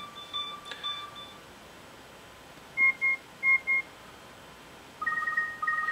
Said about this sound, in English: So I'm going to use that ringtone.